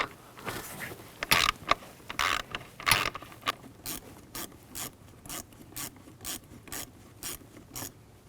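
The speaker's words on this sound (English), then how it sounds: "We're going to use a 7mm socket. Loosen up that clamp." A ratchet with a 7mm socket loosens a hose clamp on a 2001-2009 Volvo S60. First come a few louder clanks of fitting the tool, then a run of quick, evenly spaced clicks, close up with no talking.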